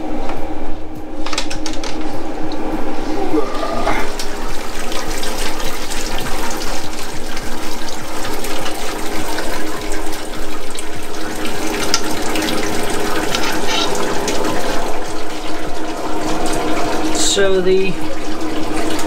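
Wort drains freely from an all-grain mash kit during the sparge for a Belgian IPA, a continuous close splashing trickle of liquid running for the whole stretch, with a brief spoken word near the start.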